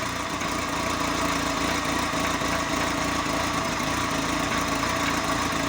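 Chevrolet car engine idling just after starting, still cold, with a steady, even mechanical hum and light vibration held close up, with no voices.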